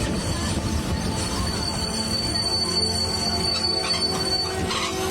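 A train at a busy railway station sends out a steady, loud rumble of wheels on track, with a thin metallic squeal running high above it the whole time.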